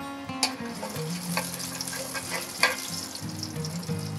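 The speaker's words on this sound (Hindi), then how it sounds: "जब जीरा हमारा हल्का सा तड़कने लग जाए" Cumin seeds crackle in hot oil with a pinch of asafoetida as tempering for Rajasthani dal dhokli: a steady, fairly quiet sizzle with scattered small pops and a few sharper ticks, and no voices.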